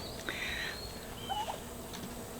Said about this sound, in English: Alright, so here's our turkeys, bourbon reds.